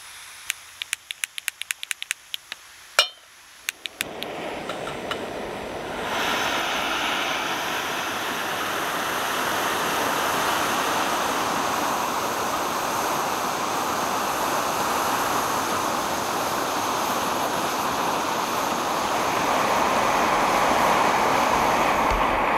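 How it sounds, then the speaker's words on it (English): A Kovea Spider backpacking stove brings two cups of water to a boil: a few sharp clicks at the start, then a steady, loud roaring hiss of the burner flame that holds for the rest of the clip. "It boiled 2 cups of water, which is roughly 475 milliliters in 4 minutes, 10 seconds"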